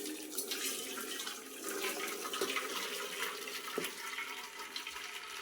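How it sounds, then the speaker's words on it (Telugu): Hot water poured off boiled vermicelli for an egg vermicelli dish: a steady, close rush and splash of draining water that continues for several seconds without talking. "ఇప్పుడు ఈ నీళ్ళన్నీ వంచేసుకోవాలి."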